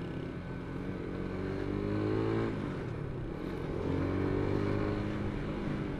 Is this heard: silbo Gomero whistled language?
no